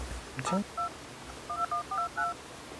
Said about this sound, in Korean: 제가 지금 전화를 걸어보도록 하겠습니다.